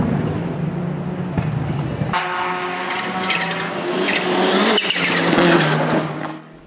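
Ford Escort Cosworth rallycross special of about 550 hp racing at Sosnová, loud and close, engine roaring and climbing with revs, gear changes and tyre noise building to a peak before cutting away at the end.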